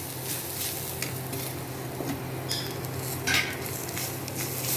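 Grated coconut roasts in a pan for sambar, with a constant soft sizzle and scattered scraping strokes of a spoon stirring, plus a few sharper metallic clinks near the end.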